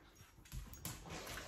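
A pet dog whimpers softly in a home, a faint, thin whine drifting over a steady background hum for a brief moment.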